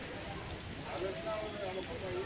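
Steady, dense hiss of heavy rain pouring down over the Gir area near Sasan, Junagadh, in rural Gujarat, with a voice talking over the downpour.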